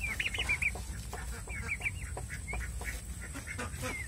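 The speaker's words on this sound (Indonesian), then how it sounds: "Ini kalkun" Turkeys on a farm kept clean of warts, giving repeated short gobbling and clucking calls at close range over a steady low background hum, no talk.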